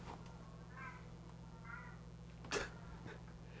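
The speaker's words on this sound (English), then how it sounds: "Cat's making noises." A couple of faint cat meows and a brief sneeze-like burst, heard over a steady low hum in a quiet room.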